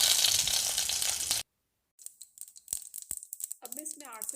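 Curry leaves hit hot ghee with mustard seeds, giving a loud, hissing sizzle for over a second that stops abruptly; after a pause come light clinks and a voice speaking.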